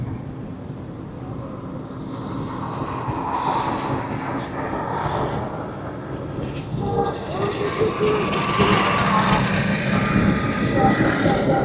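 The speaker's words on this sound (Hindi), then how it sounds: "ये देखिए आप मेट्रो हमारी यहाँ से स्टार्ट हो गई है।" A Lahore metro train pulls away and runs along its rails, producing a low rumble that grows steadily louder. It is heard from inside a nearby road vehicle, amid faint traffic noise.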